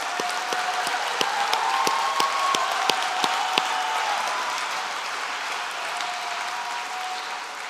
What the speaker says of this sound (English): one last round of applause for all our graduating students